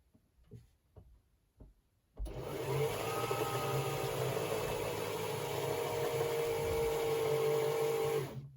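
A Janome V-186 sewing machine whirs into action after a few quiet clicks, its motor running at a steady, close, humming pitch with a slight rising whine until it stops.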